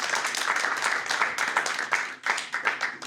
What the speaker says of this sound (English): Clap your hands for yourselves.